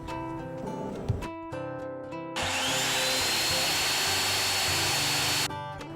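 Steady, loud whine of a router cutting into plastic, starting after a short stretch of lower mechanical hum and running continuously before dropping off.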